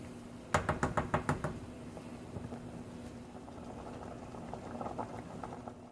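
Large elbow macaroni boiling in a pot of water on the stove, a few sharp knocks and clatters from the pot early on, then a steady, close bubbling roil with no talk.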